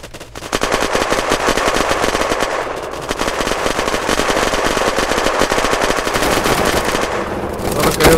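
Rapid automatic gunfire from a favorite weapon in the Unturned video game rattles in dense, continuous bursts, loud and close, with a brief pause near the middle before the shooting resumes.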